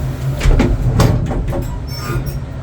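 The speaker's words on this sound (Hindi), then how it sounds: "ये दरवाज़ा बंद हो रहा है इसका।" A cable car's sliding door closes in Namur, Belgium, with a few rumbling mechanical thuds and a low steady hum from the cabin.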